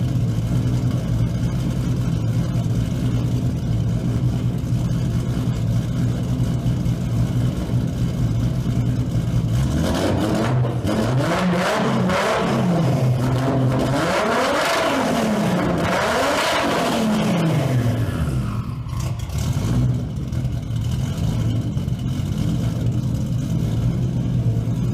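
A Toyota Supra with a modified aluminum straight-pipe exhaust idles rough and loud, then revs hard several times with climbing and falling pitch before settling back to idle.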